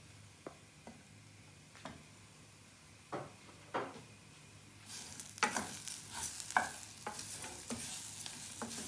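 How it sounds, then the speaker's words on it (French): Garlic and ginger stirred in a hot frying pan, with scattered utensil scrapes at first, then louder sizzling and frying as the stirring continues, close up with no talk. "Donc ensuite, vous rajoutez l'ail, le gingembre, mélanger tout ça."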